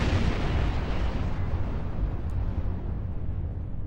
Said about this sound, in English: 1 torpedo to blow them up